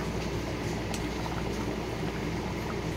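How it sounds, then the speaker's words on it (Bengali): Dalia (broken wheat) boiling in hot water, a steady soft bubbling simmer with faint pops, continuous and close, with no voices. "ডালিয়াটা সেদ্ধ হচ্ছে দেখুন।"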